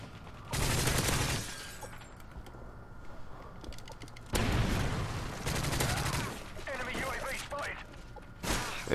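Rapid bursts of rifle fire from a Type 95 in Modern Warfare 3 multiplayer, crackling in a short volley, a longer stretch of shots a few seconds later, and a brief final burst, with quieter game noise between.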